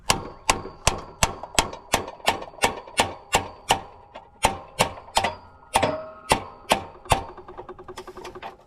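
A wrench hammered down repeatedly on a stuck, bent bolt, roughly fifteen sharp metallic clanks in a steady rhythm, loud and close, followed by a faint rattle.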